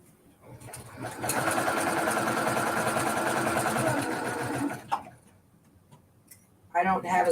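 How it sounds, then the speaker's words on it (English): A sewing machine stitches a quarter-inch seam in one steady, even run of several seconds, then stops. A voice briefly follows afterward. "I'm just going to sew a 1/4 inch seam"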